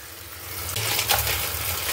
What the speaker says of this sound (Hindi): देखो पानी में डालो इसे, पानी में डालो तो तैर जाएगी